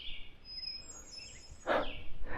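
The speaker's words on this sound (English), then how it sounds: "Listen to those birds." Morning birdsong at the Moosalamoo campground: thin, high whistled notes and a brief chirping burst near the end, fairly faint against quiet outdoor background, with no talk.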